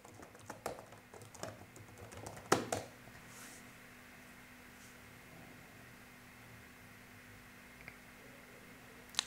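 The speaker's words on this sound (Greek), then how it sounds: "Γράφουμε εδώ πέρα το email μας." An email being typed on a computer keyboard, a quick burst of close key clicks early on that thins to scattered taps over a steady low hum, with no talk.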